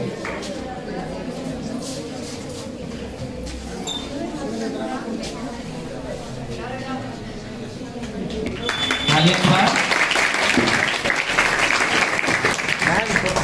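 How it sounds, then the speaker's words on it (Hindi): An audience at a school speech competition honoring Savitribai Phule bursts into loud, dense applause that starts partway through, after a stretch of murmuring chatter and scattered shuffling. "तालियों की गड़गड़ाहट"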